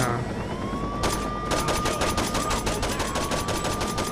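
Rapid automatic gunfire from the Saints Row 2 video game rattles in quick bursts over a rising siren-like tone, steady and fairly loud throughout.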